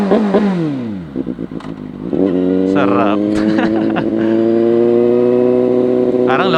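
A CFMOTO 750SRS motorcycle engine on launch control blips, dips, then climbs and holds a high, steady rev, loud and close, while someone talks over it.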